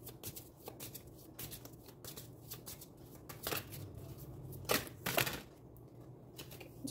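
Tarot cards are shuffled and drawn by hand for a reading, giving soft riffling flutters and crisp repeated card snaps, close but quiet, with a few louder flicks near the end and no talking.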